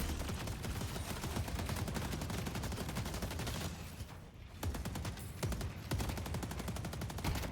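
Rapid bursts of automatic turret fire in the video game Deadlock, a dense, steady stream of sharp shots that briefly thins out midway before resuming loud and close.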